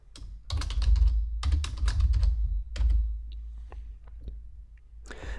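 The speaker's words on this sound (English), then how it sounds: "I'll just type in the patient's name." Computer keyboard keys clatter nearby in quick, uneven bursts of typing while a name is entered, with short pauses between the bursts.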